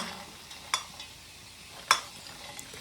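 Vegetables drop into a hot tempering on a wood-fired stove and are stirred, giving a soft steady sizzle broken by two sharp scraping clinks of the spoon against the pan.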